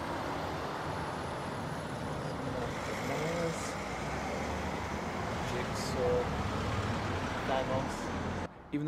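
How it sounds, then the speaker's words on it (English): Several cars driving past outside a shop window at night in quiet Garstang, a steady rumble of traffic building and fading across the whole stretch, with people talking faintly over it. "obviously like 10 cars had to drive past at that bit"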